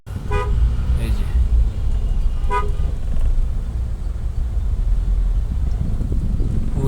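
Street traffic jam on a wide eight-lane road with a BRT line, car horns honking in short toots over a steady rumble of idling vehicles and wind noise, with someone talking throughout.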